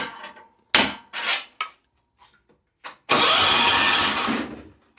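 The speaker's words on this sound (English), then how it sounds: "take a long screwdriver and put it right down on the top of the starter and give it a couple whacks with a hammer" A hammer strikes a long screwdriver set on the starter of a John Deere 300 in several sharp metallic whacks, followed by the engine cranking and catching.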